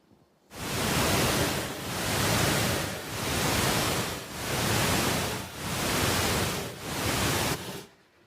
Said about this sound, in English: we played the deep sleep stimulating sound that was shown to make them have deeper sleep.